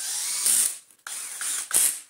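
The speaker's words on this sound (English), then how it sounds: "and then do the screws up really quickly." A ratchet tool clicks rapidly in three quick bursts as screws are done up while refitting the motor of a Dyson DC40 vacuum cleaner, each burst close and sharp with short gaps.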